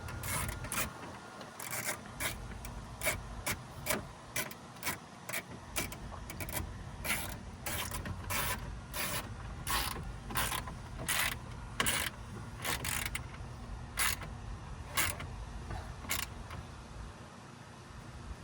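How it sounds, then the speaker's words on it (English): Two bolts being tightened on a car's dash bezel during installation: a steady run of sharp, evenly spaced ratchet-like clicks over a low mechanical rumble, close up, with no talking. "now we're gonna tighten up these two bolts here"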